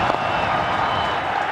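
Stadium crowd applause and roaring at the MCG cricket ground as Ponting nears his century, a dense, steady wash of clapping and cheering that holds throughout.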